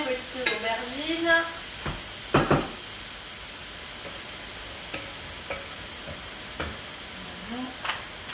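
Diced eggplant for a vegetarian bolognese sizzles softly in a pan as a utensil scrapes and stirs it in a few short bursts, with quieter frying hiss in between and a voice briefly at the start.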